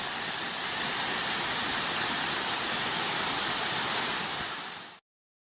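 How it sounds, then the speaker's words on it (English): A waterfall roars with a dense, steady rush of falling water, loud and close, constant throughout before cutting off abruptly. "It's not really a waterfall unless you can hear it"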